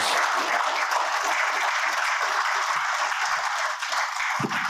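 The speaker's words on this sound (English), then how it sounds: "Big round of applause for Heather, Adam, and Peter, please." A live audience gives loud, sustained clapping for podcast panelists Heather, Adam and Peter. It is a dense, even wash of many hands from start to finish with no voices over it.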